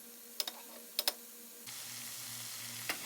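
Lamb loin chops searing undisturbed in a hot pan, a soft steady sizzle with a few sharp pops and crackles near the start, the frying hiss growing slightly fuller partway through.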